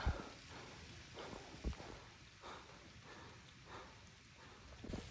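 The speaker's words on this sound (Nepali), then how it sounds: "फेरि पानी पर्नु थाल्यो" Steady soft hiss of light rain falling on a hiking trail, with a few heavier drops or thumps scattered through, quiet and with no one speaking.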